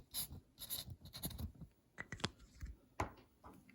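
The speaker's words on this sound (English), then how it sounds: "Let me write down on this just for the heck of it." A pen or marker scratches and squeaks across the plastic dust bin of a Proscenic M7 Pro robot vacuum, in short irregular strokes close up, with no talk.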